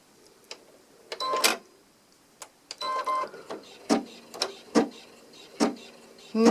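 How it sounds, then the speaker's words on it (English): An embroidery machine sewing a basting stitch, heard as quiet bursts of rapid mechanical needle clatter separated by short pauses, close by and with no talk. "Okay, this is creating my basting stitch."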